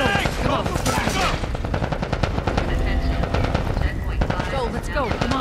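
Sustained automatic gunfire in The Last of Us Part I, dense rapid bursts of shots close by with shouting voices mixed under the firing throughout.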